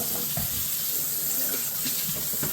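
Kitchen tap water runs steadily into a sink while strawberries get a final rinse after a vinegar soak, a constant close splashing hiss with no speech.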